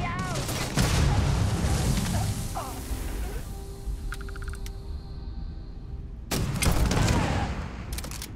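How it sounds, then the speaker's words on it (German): A grenade going off in the sci-fi shooter Starfield, a heavy boom with crackling debris near the start, followed by a quieter stretch of game ambience and a second loud burst later on. "Granate."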